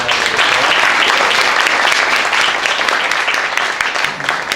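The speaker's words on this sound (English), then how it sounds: "I'd like to give everyone here a round of applause" An audience at a drama therapy program's 40th anniversary celebration breaks into sustained applause, dense, loud and close, holding steady before easing slightly at the end.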